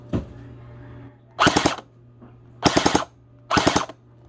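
A TG ARP9 V3 airsoft gun with a stock metal gearbox, run on a 7.4V battery, fires three rapid full-auto bursts close by, each roughly a third of a second long and separated by short pauses.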